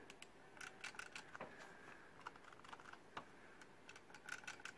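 Mouse button clicks from a white Zowie EC2-A gaming mouse, a rapid, irregular run of sharp, faint close-up taps with brief pauses between bursts.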